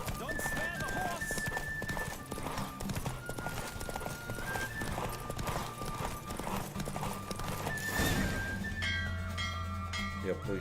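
Rapid hoofbeats gallop over a continuous bed of music and effects in The Witcher 3: Wild Hunt, with a horse whinnying near the end and voices talking over it.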